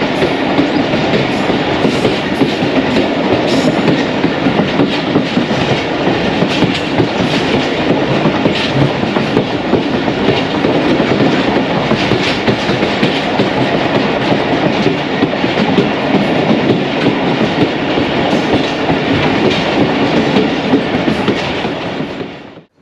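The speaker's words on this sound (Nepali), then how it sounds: "और फिर ट्रेन आगे रवाना हुई" The Jaffar Express passenger train runs on rails between Sukkur and Quetta through desert country, with a loud, steady rumble and continuous clickety-clack from the wheels for over twenty seconds.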